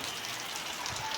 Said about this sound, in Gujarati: એ મોણવેલમાં વરસાદ ચાલુ થઈ ગયો છે ધોધમાર